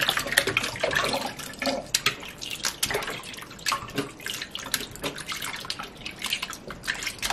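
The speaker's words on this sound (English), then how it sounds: "I rinse it one more time to rinse off the vinegar properly." Food rinsed under running tap water to wash off vinegar, a close, steady splashing and dripping stream with irregular spatters throughout.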